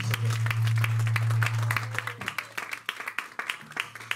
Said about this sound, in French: On donne encore une acclamation.